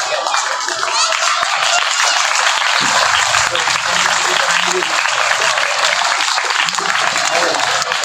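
Loud, dense clapping from an audience at a school ceremony for society members and teachers, sustained and even throughout with a murmur of crowd noise beneath.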